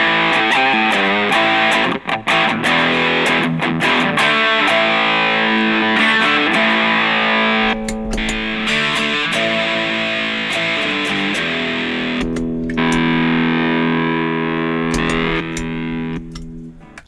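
An electric guitar runs through a modded Boss DS-1 distortion pedal, strumming thick, sustained, heavily distorted chords continuously with a few brief chord changes and cut-offs. It is loud and up front with no voice.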